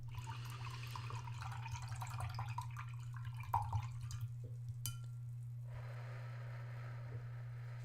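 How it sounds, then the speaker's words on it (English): Watercolor paint brushes rinsed in a jar of water, soft swishing and light clinks against glass, then a faint wet dabbing, all close and quiet over a steady low electrical hum. "Let's close out our session by doing our breathing exercise and washing out our brushes"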